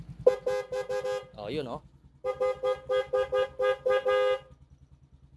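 A dual horn fitted to a Shooter FI 115 motorcycle toots in a quick burst of four short beeps, then after a pause sounds a longer run of about nine beeps, loud and close, with a brief spoken remark between.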